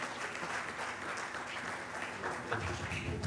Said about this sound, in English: let's put our hands together again for the convener of the event